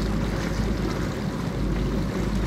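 Gas-powered 48-inch Rockstar RC catamaran speed boats with twin jets racing on open water, giving a steady, loud engine drone with wind and water noise throughout and no talking.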